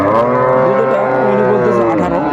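A dairy cow at Raniganj livestock market in Dinajpur lets out one loud, sustained moo close by, wavering in pitch before trailing off, with faint voices behind.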